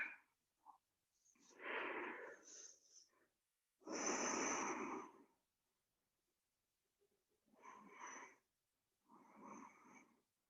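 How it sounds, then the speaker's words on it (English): Slow, deep breaths taken during a beginner stretching warm-up, a few long inhales and exhales with quiet pauses between them, close and fairly soft with no talking. "Take a couple of deep breaths."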